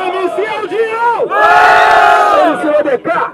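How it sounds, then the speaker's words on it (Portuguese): Loud crowd roaring and cheering in a vote for an MC in the final round of a street rap battle in São Gonçalo, a surge of shouting that swells for over a second and then fades, with a voice calling out before and after. "Barulho que no segundo round preferiu a rima do MC Aldinho"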